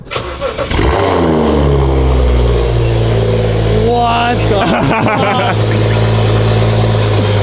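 A car fitted with an expensive aftermarket exhaust starts and revs hard, then settles into a loud, deep, rumbling idle with rising and falling revs, close by, while people react in speech.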